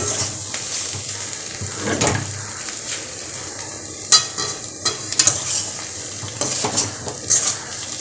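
Fish oil chorchori being stir-fried in a pan, a spatula scraping and clinking against the metal over a steady sizzle, with louder knocks and scrapes near the end, close up and with no talk.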